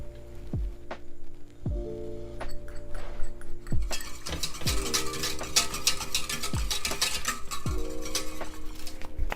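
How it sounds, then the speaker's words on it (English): A mini whisk stirs cornstarch slurry into stock for gravy, making steady clinks and scrapes against the pot in a repeated rhythm. The sound is close and fairly clear, with no talking. "mini whisk, incorporate. Make sure it all dissolves, your cornstarch, into the stock."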